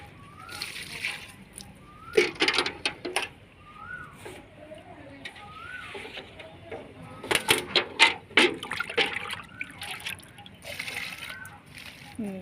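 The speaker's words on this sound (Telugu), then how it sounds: "మిర్చి మొక్కలకి ఇక్కడ ఇలా పైన ఇలా జిమ్ముకుంటేనే ఆకుముడత అన్నది పోద్దని చూసారా" Sour buttermilk is sprayed and splashed over chili plants in a home garden, making repeated wet sloshing and spattering bursts in short clusters, fairly close, with background bird chirps.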